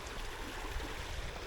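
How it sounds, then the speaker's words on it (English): A strong creek current rushing past at a smallmouth bass fishing spot, a steady low gurgling flow of moderate loudness, continuous with no talk. "You got strong current going by here,"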